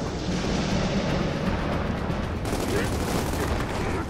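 Dense sustained gunfire and explosions from a Gears of War 4 solo campaign battle, a continuous loud barrage of rapid shots with no pauses, filling the whole stretch.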